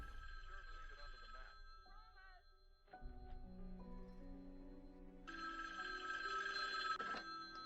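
A telephone rings repeatedly in a fan-made indie horror video game based on Halloween, loud and close, with an electronic trill layered over tonal game music and a rising ambient drone.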